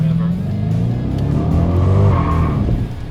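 2008 Dodge Challenger SRT8 V8 engine revving, a loud, deep rumble that rises and falls over a few seconds, close by, fading slightly at the end.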